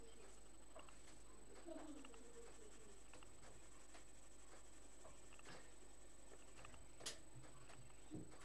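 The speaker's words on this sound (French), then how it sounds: "Et laisser les oiseaux qu'on devrait entendre." Pigeons coo softly outdoors among scattered faint bird calls and chirps, with a low steady background hum.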